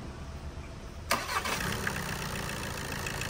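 A car engine cranks and catches, then settles into a steady idle rumble, fairly close.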